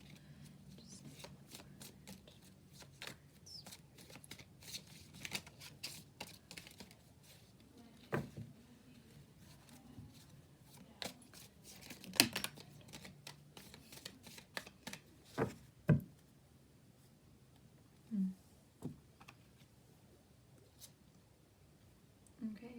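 Tarot cards are shuffled in repeated crisp riffles and soft taps, close and fairly quiet, with intermittent talking around them.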